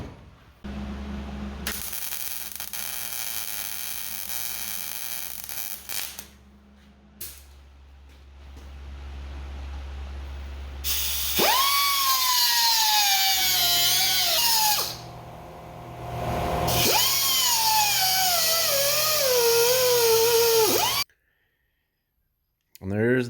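Metalwork on a turbo intake clamp for a 1963 2.3 turbo install: intermittent buzzing and clicking from welding, then harsh whining bursts from a cutting tool biting into metal, loud and close, with someone talking between passes.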